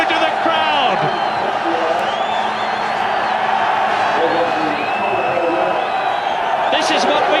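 A large crowd at Silverstone in 1992 cheers and whoops for Nigel Mansell's win. A dense, loud roar holds steady throughout while a commentator talks over it.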